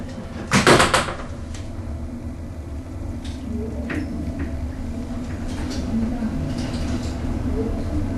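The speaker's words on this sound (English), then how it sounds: "Doors closing." Hospital lift doors closing: a sharp thud as the doors shut, followed by a steady mechanical hum and faint clicks inside the car.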